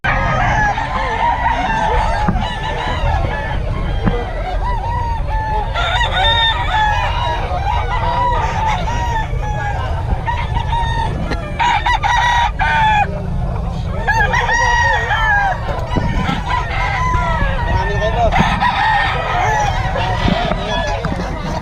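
Dense chorus of chickens clucking with roosters crowing repeatedly, loud and close, amid busy crowd chatter and market bustle throughout at a chicken market in Bocaue, Philippines.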